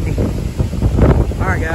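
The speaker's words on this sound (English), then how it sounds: "Still pretty windy." Strong gusty wind after a Category 4 hurricane roars steadily against the microphone outdoors, a loud continuous rumble with swelling gusts.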